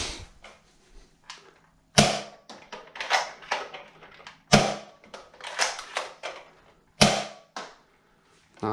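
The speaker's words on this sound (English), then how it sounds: "Let's see if we can't get a few shots down range." A modded Strongarm toy foam blaster fires three loud, sharp shots at steady intervals of about two and a half seconds, each followed by clacking and rattling as the mechanism is cycled and primed.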